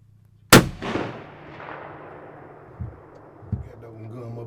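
A single loud, sharp report from a deer hunting rifle cracks out close by and trails into a long rolling decay, followed later by two faint thumps.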